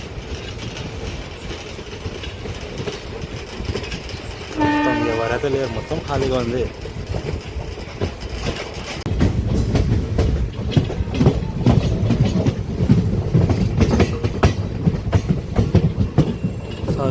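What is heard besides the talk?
MEMU local train running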